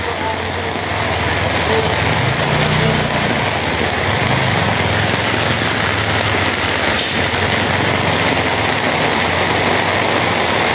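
A motorcycle engine labors through floodwater on a city street during a typhoon, a steady strained drone under splashing and rushing water that continues for about ten seconds.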